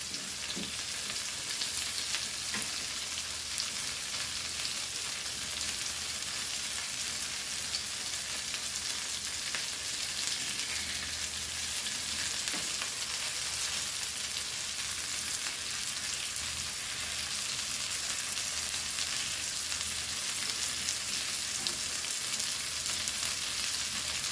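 Goan kalva oysters coated in rava frying in a pan, a dense continuous close sizzle and crackle holding steady throughout, with faint occasional clicks and no talking.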